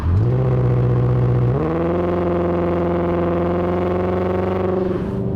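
A Volkswagen Passat W8 engine idles with a deep, smooth hum, then revs higher and holds a steady, rich drone before easing back down.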